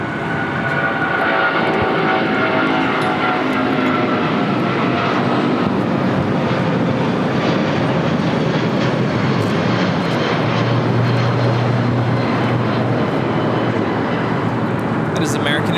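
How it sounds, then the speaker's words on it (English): An American Airlines Boeing 777-200ER takes off from LAX runway 25 right toward Dallas–Fort Worth, its engines producing a sustained, heavy roar and rumble that stays loud and steady across the whole stretch. "That is American Airlines 1994 taking off to Dallas, Fort Worth on 777-200ER"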